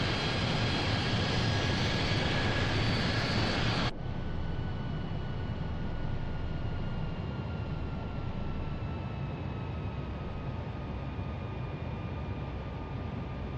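Steady engine roar inside an RAF C-17 Globemaster jet transport climbing to cruise altitude, loud constant drone with a high whine, dropping slightly in level after a few seconds.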